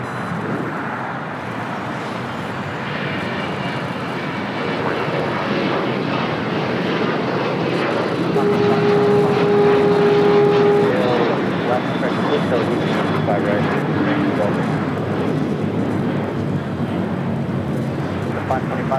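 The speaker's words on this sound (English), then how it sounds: "Avianca Cargo A330. This flight to Indianapolis now taking off on 25 right." Avianca Cargo Airbus A330 taking off from runway 25 right at LAX, a broad steady jet engine roar building gradually to a peak and holding, with faint radio-like chatter and tonal whines over it.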